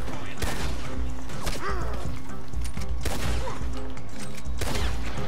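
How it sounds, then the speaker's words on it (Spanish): Gunfire in the Western game Red Dead Redemption 2, loud bursts of shots and impacts repeating across the whole stretch, with some talk mixed in. "de repente empecé a escuchar disparos"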